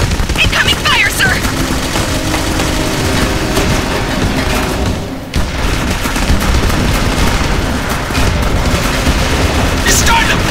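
Sustained, dense gunfire from the shooter game Jericho: overlapping bursts and heavy firing run almost continuously, with a brief lull midway, while voices shout beneath the din.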